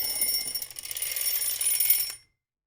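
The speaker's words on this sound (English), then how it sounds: "I forgot to turn off my alarm." A phone or clock alarm rings with a bright, steady electronic beeping that cuts off abruptly after about two seconds, heard alone at moderate volume.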